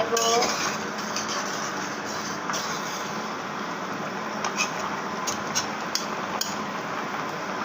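A metal lid is lifted off a pot of boal fish curry with potatoes and tomato, bringing a few clanks and light utensil knocks over a steady kitchen hiss.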